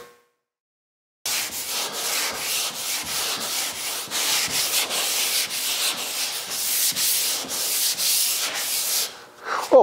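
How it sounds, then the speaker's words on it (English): Steady back-and-forth scraping of a sanding block rubbed by hand over a custom 1951 Ford's bodywork, rhythmic strokes close by, starting after a brief silence. "Figured I'd get a little block sanding in while I was waiting for you guys to arrive."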